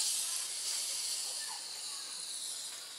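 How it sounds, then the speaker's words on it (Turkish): A budget steam mop from a discount store, whose steam seems weak and which has a dislodged rubber seal, gives a steady, fairly soft hiss of escaping steam that runs through the whole stretch with no talk over it. "Yalnız buharı çok zayıf gibi geldi bana."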